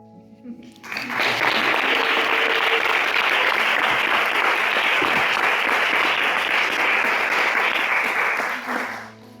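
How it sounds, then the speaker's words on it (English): Audience applause for a speaker at a Transgender Day of Visibility event in Erie, Pennsylvania. A brief murmur comes first, then a loud, dense burst of clapping from the crowd holds steady for about eight seconds before fading out. "Could we just have one more round of applause for all of our speakers?"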